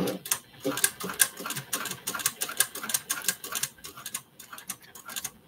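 A sewing machine stitches a small journal cover, giving off quick, close mechanical ticks and taps in irregular bursts with brief pauses between runs.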